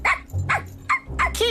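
Cartoon dog barking in a series of four loud, close yaps spaced evenly over a second and a half, with no talking over it.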